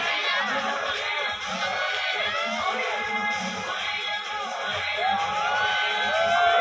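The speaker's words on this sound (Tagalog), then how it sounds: "Palakpak daw." A crowd at a fire dancing show on a beach in Lobo, Batangas whoops and cheers in a continuous mix of shouts and chatter, with voices rising and falling throughout.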